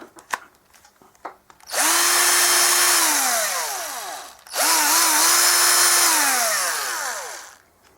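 Cordless drill-driver running on a new spare battery, two loud bursts of motor whine with spin-up and wind-down, close and alone.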